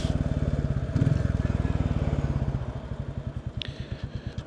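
A Royal Enfield Bullet 350 motorcycle exhaust thumps with a steady, bassy single-cylinder beat, loud and close, its pulse rhythm slowing slightly partway through with no talking.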